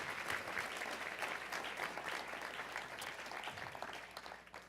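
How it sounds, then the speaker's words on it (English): Enthusiastic applause from a crowd, dense clapping that holds steady for a few seconds, then begins to thin out. "How about a big round of applause"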